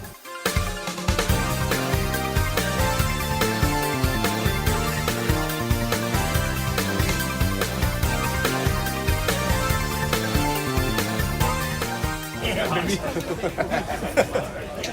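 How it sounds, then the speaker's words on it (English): A dense crowd murmur of many overlapping voices chattering in a queue, with occasional laughter, steady and continuous throughout, then briefly shifting near the end. "the noise you can hear there is actual noise of a queue"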